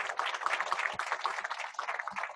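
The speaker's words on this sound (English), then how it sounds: "Sarah, so your round of applause." An audience at a tech user-group meetup gives a round of applause, a dense, steady patter of many hands clapping close by for a couple of seconds.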